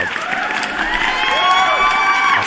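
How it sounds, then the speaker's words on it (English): Applause and cheering sound effect played on a livestream, loud continuous clapping with crowd whoops sustained throughout, no talking over it. "Let me give you guys a round of applause so far."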